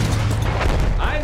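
Heavy tank cannon fire in the video game Battlefield 1, a loud continuous booming blast with rumbling low end filling the short moment, played close and dense.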